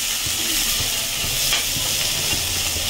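Tomatoes and onions sautéing with rock salt in a hot pan give a dense, continuous sizzle and hiss, with faint stirring scrapes beneath; close and fairly loud, no voices.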